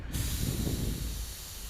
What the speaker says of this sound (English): Because my air pressure is so low, the paint is not coming out it doesn't spray out paint, it spits out paint right now.